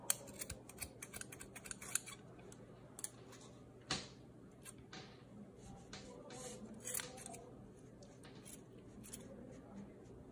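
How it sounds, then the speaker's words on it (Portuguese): Scissors snipping fabric scraps to trim a pompom for a Christmas ornament, with quick, close crisp cuts in a loose rhythm and a faint voice in the background. "É só ir cortando aí, ó, até ficar bem bonitinho."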